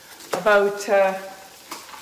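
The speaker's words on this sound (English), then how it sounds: "We're just looking now at the onions. They're frying up nicely." Onions frying in a pan on the stove while macaroni cooks nearby give off a soft, steady sizzle underneath a person talking.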